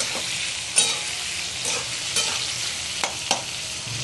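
Curry leaves frying in hot oil for spicy Pune-style misal pav, a steady close sizzle and crackle with a few brief louder pops and spits spread across it.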